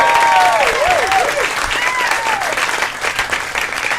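Comedy club audience at Zanies applauds loudly and steadily after a headliner's closing set, dense clapping filling the room with a few whistles and cheers rising over it, tapering slightly toward the end.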